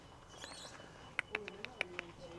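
A bird gives a few quiet, sharp chirps in quick succession, faint against a low background hum with soft noises before them.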